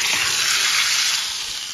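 A loud, steady sizzle of hot ghee with caramelized sugar crackling as it is poured into kheer for tempering, continuous for the whole moment with no voices.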